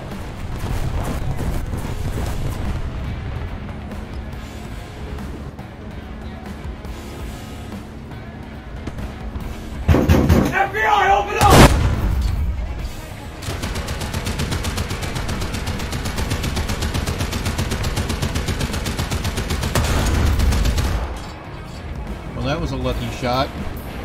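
Tank cannon shots in War Thunder, a couple of loud booming blasts standing out from steady engine and battle noise, with a voice talking over it.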